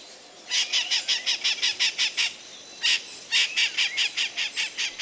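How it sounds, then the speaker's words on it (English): A mealy parrot in a rainforest soundscape app gives a rapid series of harsh, repeated squawks, about a dozen in quick rhythm, a brief pause, then another run of loud squawks. "I'll also add a mealy parrot."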